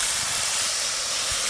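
Water goes into a frying mixture of tomato, dried chilli paste, salt and spices, giving a loud, steady hissing sizzle for a brief moment, with no voices.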